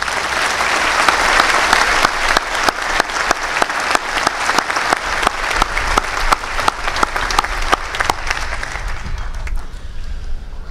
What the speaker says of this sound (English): recognize our international students with a quick round of applause